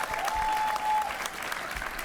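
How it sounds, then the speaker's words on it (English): Applause from the crowd in the hall at a Conservative Party of Canada leadership debate, heard as a short burst of clapping with a faint tone running through it. "all I have to do is say Melissa Landsman's name and get some applause"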